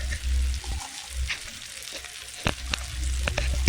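Pumpkin and potato curry with chana dal sizzles in a pan as it is sautéed, soft frying crackle broken by sharp scraping clicks of a spatula stirring near and fairly loud.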